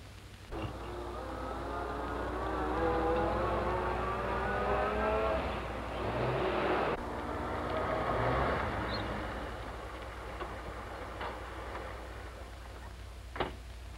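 A car engine in a 1938 film hums and revs up, rising in pitch for several seconds, then settles into a quieter idle with a couple of faint clicks.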